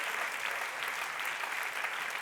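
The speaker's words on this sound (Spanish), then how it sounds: "Un aplauso a la gloria del Señor en esta mañana" Continuous applause from a church congregation during a worship service, a dense, even wash of clapping that stays at a steady level throughout.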